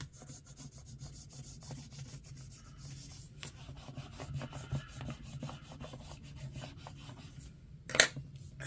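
Stickers being burnished onto a sticker book page, a faint steady rubbing and scraping that continues throughout with a low background hum and one brief sharp tap near the end.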